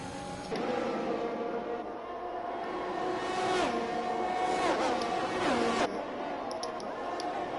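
Ferrari race car engine in a sim racing game, a sustained mid-loud whine with rising and falling pitch sweeps as it shifts and revs, running steadily without talk.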